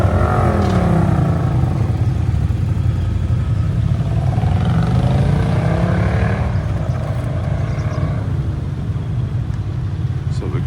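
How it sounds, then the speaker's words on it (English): Classic cars and motorcycles leave a spring classic car and bike breakfast meet, loud nearby engines revving and passing one after another with rising and falling drones, someone talking over the traffic. "And we got the rest of the bikes rolling out"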